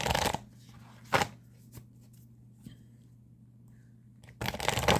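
Archetype oracle cards are shuffled in short, crisp riffling bursts at the start and end, with a lone soft tap between them over a low steady hum in a quiet room.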